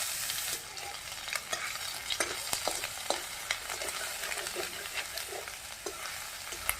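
Dry red chili, bay leaf, cumin and chopped ginger sizzle in hot oil, a constant close frying hiss broken by frequent sharp crackles and spatters as they are stirred.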